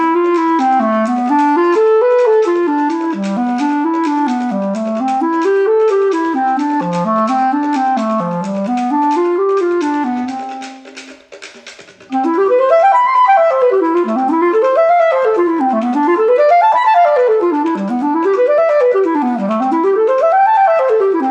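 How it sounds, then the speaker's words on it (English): Seventh-chord arpeggios played on a single melodic instrument, rising and falling in steady waves through a diatonic cycle of fifths, with a brief pause near the middle before a second, wider-ranging pass; clean and alone with no talking. "So if we do this exercise of seventh arpeggios in this fashion, it sounds like this."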